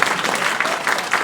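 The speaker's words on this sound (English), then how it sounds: "A whole lot of peoples clap louder." A crowd of people clapping steadily, a dense broadband patter of many hands with slight surges in intensity, fairly loud and close, with no voices over it.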